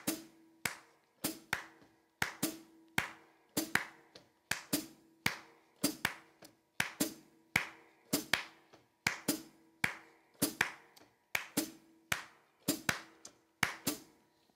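A half note triplet rhythm played as a repeating example in sharp, crisp taps, grouped hits recurring evenly over about fourteen seconds, close and clear with no talking.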